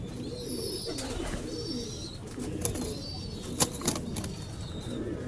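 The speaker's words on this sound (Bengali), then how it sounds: "চীনা টেডি আর একটা কামাগার কবুতর।" Chinese Teddy and Kamagar pigeons caged together, giving soft low cooing calls with occasional wing flutters, close by and steady under a faint background hum.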